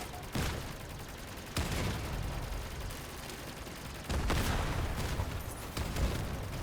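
Vehicle weapons in the combat game Crossout fire in dense, continuous volleys. Repeated loud bursts and booms overlap in a sustained barrage.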